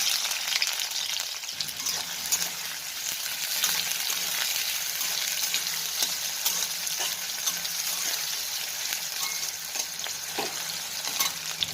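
Onion frying in white oil with cumin, giving a dense, continuous close-up sizzle and crackle that stays steady throughout without any talking.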